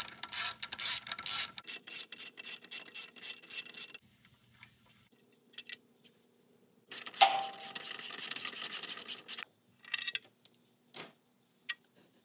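Close, crisp ratchet clicking loosens bolts on the downpipes of a Ford F150 3.5 EcoBoost, coming in quick runs of rapid clicks with quiet gaps between bursts and no voices.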